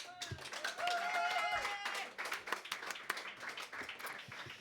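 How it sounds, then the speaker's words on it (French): Audience applause at a live evening performance in Bar Ôbohem: a dense patter of claps fills the room, near and steady, with a few voices and a brief whistle-like tone mixed in before it thins out. "je crois qu'on peut les applaudir"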